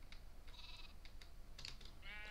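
Sheep bleats from Minecraft, a few short synthetic baa calls mixed with light clicking like keyboard or mouse input, close and moderately quiet, no talking.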